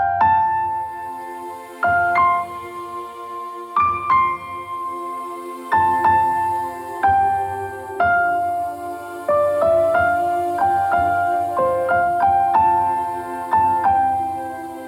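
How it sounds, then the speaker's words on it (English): A soft Christmas piano melody carries over a children's choir and airy flautando strings, with gentle repeated notes in a steady, unhurried pulse, sounding alone without speech. "So we've got the melody in the piano, plus the kids, choir, and flautando strings that sound like this."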